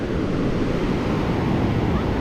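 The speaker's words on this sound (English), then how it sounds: "I first noticed all the waves that started forming here" Ocean waves break and wash steadily along the beach at Mazatlán, a loud, continuous roar of surf mixed with wind buffeting the microphone, with no voices over it.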